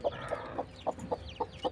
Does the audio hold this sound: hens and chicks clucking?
yes